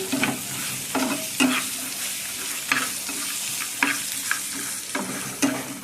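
Masala with coconut frying in a pan for sambar, a low continuous sizzle broken by regular clinking strokes of a spoon stirring against the pan, close and clear with no talking.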